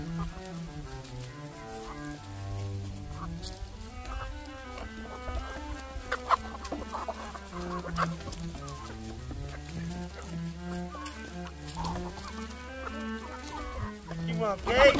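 Homestead chickens cluck and murmur continuously close by, in repeated rising and falling calls, with a steady low hum beneath.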